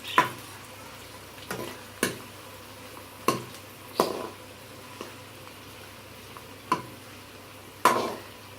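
Chopped onions fry in hot oil in a kadai, a steady sizzle broken by about nine sharp stirring scrapes and taps at irregular intervals.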